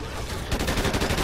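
Rapid game gunfire from the video game Call of Duty Ghosts, a dense burst of repeated shots that begins partway in and continues steadily and loud to the end.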